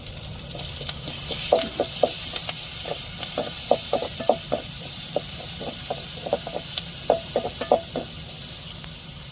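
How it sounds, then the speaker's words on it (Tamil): Crushed garlic fries in a pan with curry leaves, a steady sizzling hiss broken by soft irregular knocks and stirring clicks, close and continuous. "இப்போ அம்மியிலேயே நச்சு எடுத்து பூண்டை சேர்த்துக்கிடுவோம்"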